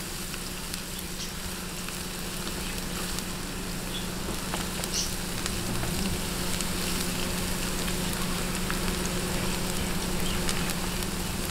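Garlic frying in oil until light brown for a chili garlic milkfish dish, giving a steady, dense sizzle and crackle that stays even and close throughout, with no voices.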